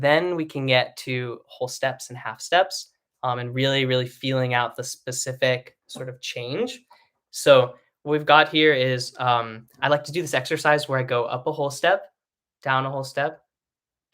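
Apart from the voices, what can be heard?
No everyday noise stands out behind the speech.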